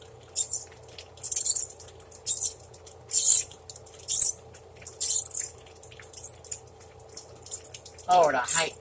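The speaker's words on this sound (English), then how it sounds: "Lord, I hate these can openers." Manual can opener cranking open a can of chicken in a home kitchen, a series of about eight short, regular scraping clicks, close and moderately loud over a low steady hum, ending with a brief burst of sound.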